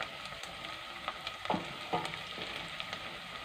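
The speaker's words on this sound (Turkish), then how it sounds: "ben tereyağıyla soğanımı çok küçük küçük doğradım. Kavuruyorum." A steady soft sizzle of finely chopped onions frying in butter in a pan, with occasional louder crackles and pops, no voices.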